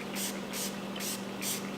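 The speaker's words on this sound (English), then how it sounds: "spray some cleaner on it" Cleaner sprayed from a trigger bottle onto a side-by-side vehicle panel during a graphics kit install, four short hissing bursts in an even rhythm, close and fairly loud.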